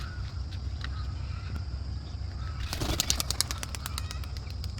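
A pigeon from a loft takes off with a burst of rapid wing claps about midway, over steady outdoor background noise, fairly close and brief.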